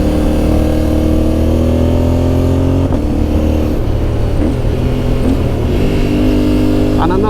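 A Yamaha Ténéré motorcycle ridden along a road in Bosnia, its engine droning steadily and close with continuous wind rush, and a rider speaking over it.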